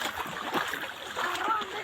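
Water splashes and sloshes on a flooded village road in Sharifpur, Daganbhuiyan, after heavy rain, irregular close splashes with a person talking over them.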